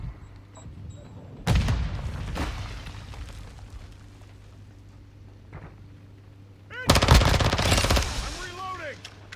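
VEL 46 gunfire in Call of Duty Modern Warfare II: two loud bursts of rapid automatic fire a few seconds apart, the second longer, over a steady low game-ambience hum with brief whistling effects after.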